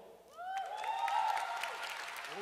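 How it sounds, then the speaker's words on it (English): Applause at an annual TV awards ceremony swells after a short pause and holds as a moderate wash of clapping, with a voice or tone rising over it. "let us give her a round of applause"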